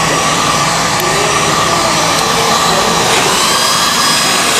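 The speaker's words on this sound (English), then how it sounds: "then you want to take your hair dryer and then you want to blow it" A hair dryer blows on high, producing a loud, constant airy roar with a steady motor whine, close and uninterrupted.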